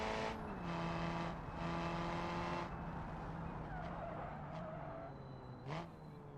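A Ferrari GT car drives in the BeamNG driving game, its engine holding a steady tone, then dropping and rising again as it shifts, with brief harsh bursts that could be tire noise, all moderately loud and continuous.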